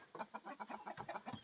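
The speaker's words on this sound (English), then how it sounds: "Look at the roosters out there." Several roosters cluck in a homestead yard, a quick run of rhythmic, steady clucks at close to moderate distance with no talk over them.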